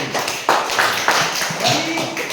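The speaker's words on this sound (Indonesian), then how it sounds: "Tepuk tangan untuk Tasya" A classroom of students claps for a classmate, a short run of uneven claps with some distinct sharp hits, mixed with room noise and faint voices in the background.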